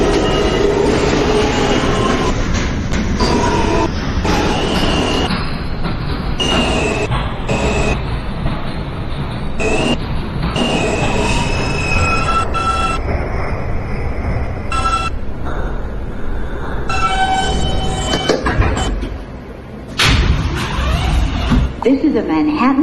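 A Manhattan-bound J local subway train in New York rumbles steadily and loudly from inside the car, with scraping wheel squeals and clatter while a voice speaks over the noise.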